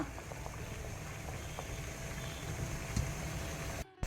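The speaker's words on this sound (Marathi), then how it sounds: "ही मुटलीं आमी तातूंत दवरया आनी बरें करून उब काडया" Mangalorean rice dumplings (mutli) steam in a covered pot over medium-high heat, giving a steady close bubbling hiss with faint small ticks, ending in a brief clatter.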